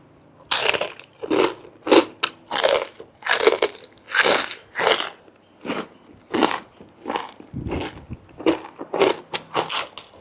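Crispy Thai pork belly being bitten and chewed up close, loud crunching bursts in an irregular rhythm with crackly snaps, each bite a sharp close crunch separated by short gaps.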